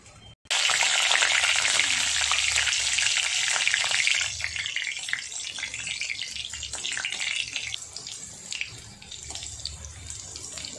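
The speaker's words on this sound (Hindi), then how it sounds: "उसको हम अच्छे से क्रिस्प होने तक फ्राई करेंगे" Green chilies and curry leaves deep fry in hot oil for sabudana namkeen, a sudden loud bubbling crackle that starts abruptly and stays dense and close, easing slightly toward the end.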